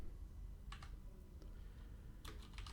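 Keys clatter on a computer keyboard while HTML code is typed, two short quick bursts of close, faint clicks over a low steady hum, with no voices.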